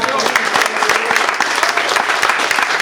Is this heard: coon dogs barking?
no